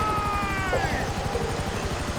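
A helicopter in GTA Online thumps loudly and steadily with rapid rotor chop, alone with no voices over it.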